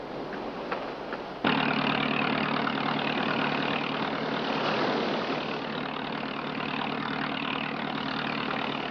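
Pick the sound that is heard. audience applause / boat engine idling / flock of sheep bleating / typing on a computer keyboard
boat engine idling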